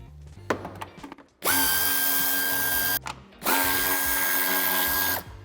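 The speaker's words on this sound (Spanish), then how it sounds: "quitamos el tornillo que sujeta el paragolpes de cabeza de 8 y con cabeza de 10 los tornillos que sujetan el piloto" A power drill on a Mini Countryman F60 backs out the 8 mm bumper screw and 10 mm tail light screws, sounding two loud, sustained whirring runs of about 1.5 s each, with soft clicks and handling noise before the first.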